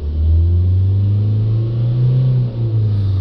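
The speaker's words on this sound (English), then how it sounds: "let's give it a rev again" Ford Transit van with exhaust gas temperature circuit faults and restricted power, its diesel engine revved and held at a raised, rumbling pitch that rises slowly and wavers slightly, loud and close with no talk.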